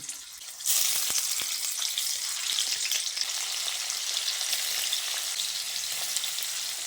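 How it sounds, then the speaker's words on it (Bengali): Paneer cubes drop into hot oil and a loud frying sizzle starts abruptly, then runs steadily and close with fine crackles throughout. "এখন আমি কেটে রাখা পনিরগুলো এর মধ্যে দিয়ে দিচ্ছি"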